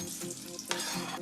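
Onions fry in oil in a kadhai with a dense, steady sizzle, close and continuous, with a faint stirring scrape partway through.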